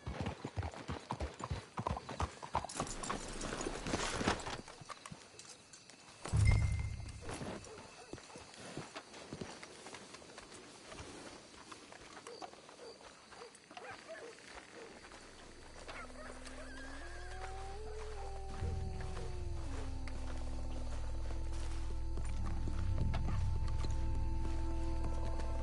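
Horse hooves clip-clop in the video game Red Dead Redemption 2, a steady stream of hoofbeats with a short neigh midway, then softening as speech-like sounds and a low rumble take over.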